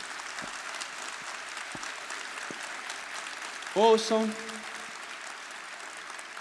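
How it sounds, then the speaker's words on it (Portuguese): Audience applause for a speaker at a Portuguese-language motivational talk, a steady wash of clapping throughout with a man's brief spoken word over it midway. "Uma salva de palmas para esse cara"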